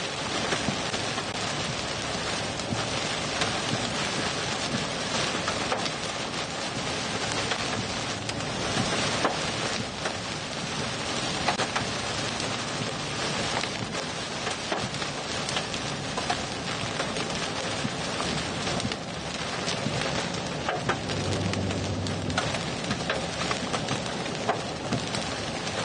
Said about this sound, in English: Ooh, big hail. Yeah, I just had a nice stone hit the roof.